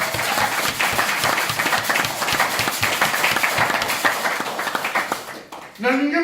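A church congregation applauding, dense continuous clapping from many hands for several seconds before it fades and a voice speaks at the end.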